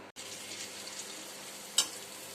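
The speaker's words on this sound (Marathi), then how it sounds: "चला आपण टमाट्याचे पापड हे तळून बघूया" Tomato papad frying in hot oil, a dense, continuous close sizzle with a brief sharp crackle near the end, no voices.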